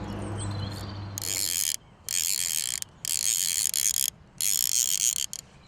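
Fly fishing reel drag ratchet screaming in loud bursts as a hooked fish pulls line, four rapid buzzing runs separated by brief pauses, close and clear.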